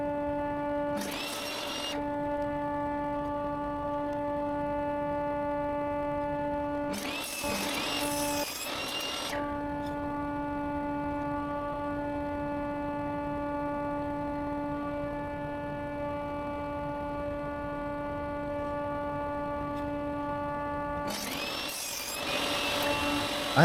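A saw runs with a steady mechanical whine while cutting small wooden pieces held on a sled against a stop block, with three louder rasping bursts as the blade bites through the wood.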